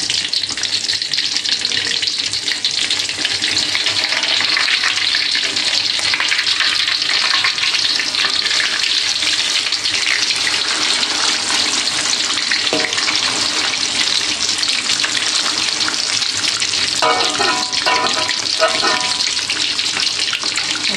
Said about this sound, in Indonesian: ini digoreng lagi ya belum terlalu coklat banget sih ya